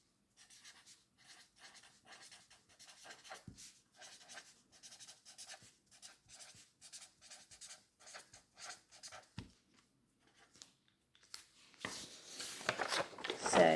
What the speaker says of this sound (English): I'm going to write reading comprehension.